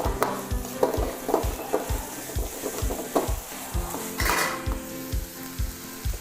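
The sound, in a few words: stir-frying onions in a pan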